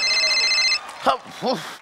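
A telephone bell rings loudly in an electronic trill for most of the second, then stops as voices speak briefly.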